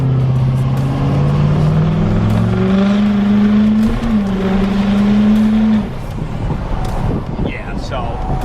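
An L5P pickup truck, fresh from a CP3 fuel pump conversion, roars under hard acceleration, its engine note climbing steadily and loud up close before easing off near the end.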